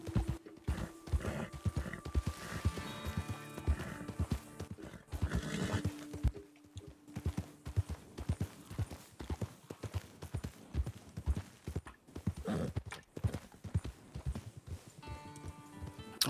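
Horses in the Red Dead Redemption 2 video game, with steady hoof clip-clop on the ground and repeated whinnies and neighs, fairly close and loud, with game ambience throughout and a few brief mechanical clicks.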